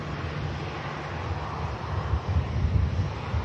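A Gulf Air Boeing Dreamliner at Manchester Airport gives a steady, fairly loud jet-engine rumble and whoosh, slightly rising near the end, mixed with wind noise and no talking.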